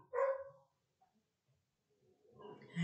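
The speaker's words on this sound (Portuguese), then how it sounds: "Ai, esses cachorros" A dog barks sharply once up close, then after a quiet gap a second rougher burst of barking and yelping follows, fainter than the first.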